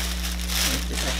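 Soft crinkling of red tissue paper wrapped around Louboutin shoes, handled close by, rustling over a steady low electrical hum.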